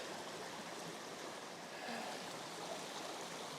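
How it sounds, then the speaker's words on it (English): A small waterfall along the Cumberland Trail gives a steady, soft broadband rush of flowing water, faint and even throughout with no voices. "I think there's a little waterfall kind of halfway through this shot"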